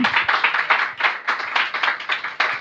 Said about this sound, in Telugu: గట్టిగా చప్పట్లు కొట్టి దేవుని గణపరచు